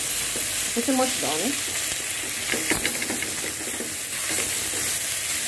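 Jamaican oxtail pieces sizzle loudly and steadily in a pot as they are turned over, with some scraping and clinks of a utensil. A short spoken remark rises briefly over the frying.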